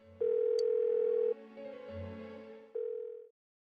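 Phone call going unanswered in the video game Persona 4, heard as loud steady electronic tones in the earpiece, two long held beeps split by a softer, lower wavering stretch, then cutting to silence.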